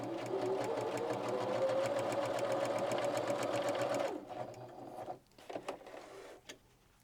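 A Viking 118 sewing machine stitches a zigzag along a fabric edge, running steadily and close for about four seconds, then stopping and giving a few short bursts and light clicks.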